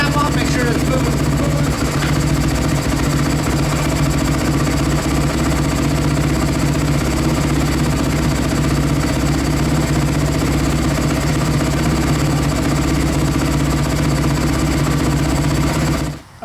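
A Kawasaki KX250F dirt bike engine idles steadily and close by with a continuous mechanical chatter, running evenly without revs until it cuts off abruptly at the end.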